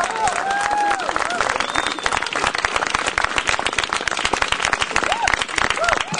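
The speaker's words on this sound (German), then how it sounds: "Nochmal ein großer Applaus." A crowd applauds loudly with dense, continuous clapping, a few whistles and cheers rising over it.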